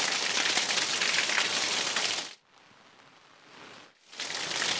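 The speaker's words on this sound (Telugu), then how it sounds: "మెరుపులు ఉరుములు ప్రస్తుతం భయంకరమైన వాన పడుతుంది" Heavy rain pouring down during a thunderstorm in Hyderabad, a dense steady hiss that cuts out to quiet for about a second and a half midway, then returns just as loud. No thunder clap stands out.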